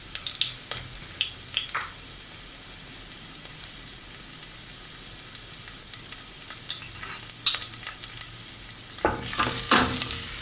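Onions frying in a pan for karhi make a crackling, popping sizzle with scattered spits, and the scraping of stirring grows louder toward the end.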